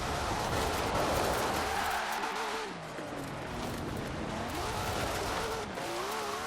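A car drifting in Forza Horizon 4 sends tires squealing over a steady engine roar, the wavering screech rising and falling continuously at close range.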